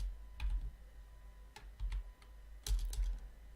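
Short bursts of keystrokes on a computer keyboard while entering JavaScript code, a few quick clicks in separate clusters, close and fairly quiet with no talking.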